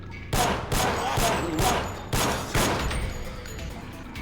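Pistol fire in the video game Deus Ex: about six sharp shots come in a quick irregular series, loud and close, each one trailing into a short echo.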